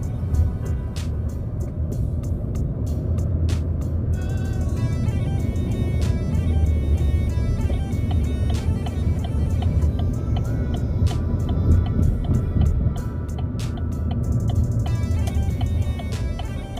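Heavy road traffic with cars driving through a congested, busy area, heard as a steady, loud, low rumble of engines and tires that continues for the whole stretch with no clear voices.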